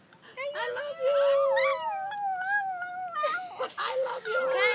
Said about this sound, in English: It's a Chihuahua.